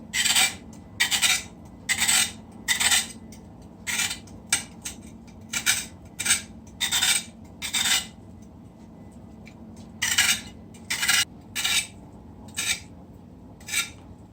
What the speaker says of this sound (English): Just want to scrape the carrot.